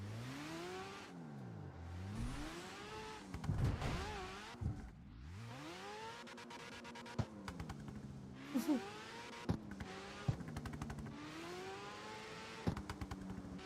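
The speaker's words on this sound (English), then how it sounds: "The backfire, like when you let go, the rotary engine, it sounds like a freaking plastic bottle being smacked on the road" A rotary engine car in the racing game CarX Street revs up and down in sweeping rising and falling tones, then pops and crackles with sharp backfire bursts as the throttle lifts.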